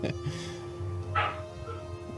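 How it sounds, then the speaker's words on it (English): A dog barking in the background, a few distant, faint barks and yips spread over a steady hum. "There will be dog barks in the background."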